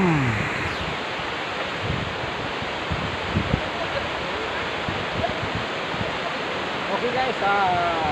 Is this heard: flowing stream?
yes